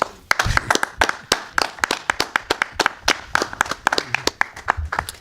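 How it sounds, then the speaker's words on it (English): Scattered audience clapping at a University Heights city council meeting, a modest number of people producing sharp, distinct claps at an uneven rhythm, close and fairly loud in a meeting room. "I would like for everyone to applaud them for their efforts."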